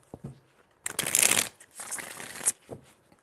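A deck of tarot cards is riffled in a quick burst of crisp shuffling, with a short pause and a second softer run of flicking cards, close and clear without talk.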